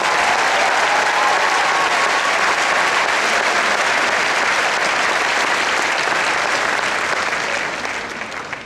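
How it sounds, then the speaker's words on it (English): A large audience gives sustained, loud applause for faculty at a university commencement ceremony, a dense wash of clapping that holds steady and begins to fade near the end. "So please give them a very large round of applause."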